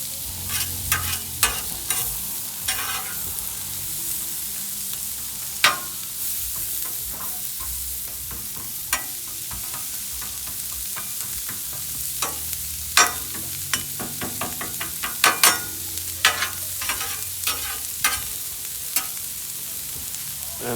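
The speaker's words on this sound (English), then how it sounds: "I like my onion nice and caramelized, so cook it however you like it." Onions caramelizing on a Blackstone 28-inch griddle, with a continuous close sizzle broken by repeated sharp scrapes and taps of a spatula stirring them across the flat-top.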